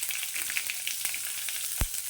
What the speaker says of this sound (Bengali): এখন আমি এর মধ্যে দিয়ে দিচ্ছি কিছুটা কারি পাতা আর একটা মিডিয়াম সাইজের পেঁয়াজ আমি কুচি করে নিয়েছি সেটা।